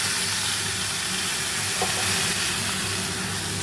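Spice paste frying in a pan for an egg curry with papaya and potato, a loud, steady, close sizzle and hiss that carries on evenly throughout.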